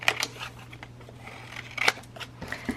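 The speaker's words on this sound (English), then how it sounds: "So I'm going to go ahead and cut it away" Scissors snipping through patterned scrapbook paper to cut out a pocket for a triple pocket page, a few close, crisp cuts with quiet shuffling of paper between them.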